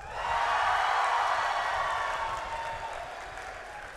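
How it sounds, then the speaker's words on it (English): A boisterous graduate business school commencement crowd claps and cheers steadily, a dense wash of applause peaking early then slowly thinning, with no voices standing out. "You are a boisterous crowd."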